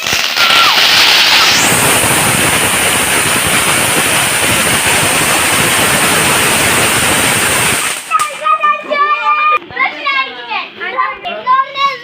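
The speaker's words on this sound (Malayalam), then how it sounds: "ആ പടക്കം പൊട്ടിച്ച് കഴിഞ്ഞിട്ട് ഇപ്പോൾ വേറെ വയ്ക്കാണ്." A lit firecracker sprays a loud, steady rushing hiss for several seconds and then cuts out, followed by children chattering excitedly.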